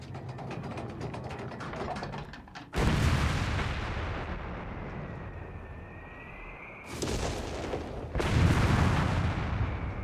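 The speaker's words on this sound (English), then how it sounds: "Next up, I'll just fire off the LEFH 18." LEFH 18 howitzer firing in Company of Heroes 3, with a mechanical clattering reload, then heavy booming blasts with long rumbling decay, several shots spaced seconds apart.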